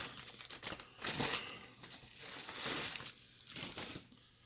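PlayStation VR packaging being unwrapped up close: crinkling, crumpling plastic and paper in quiet bursts with short tearing rustles, and no talking.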